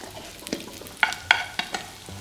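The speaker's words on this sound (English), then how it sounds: "So these potatoes, we're going to try and gently fry them" Potatoes frying gently in a pan, a soft steady sizzle broken by several sharp scraping and tapping bursts as they are stirred or turned, close up with no talk.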